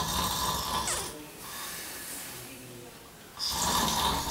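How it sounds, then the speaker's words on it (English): Loud, rasping snores repeat in a slow rhythm, close up, with a quieter stretch between breaths and no talking. "if you or your sleep partner snores"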